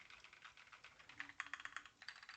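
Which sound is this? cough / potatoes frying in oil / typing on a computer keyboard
typing on a computer keyboard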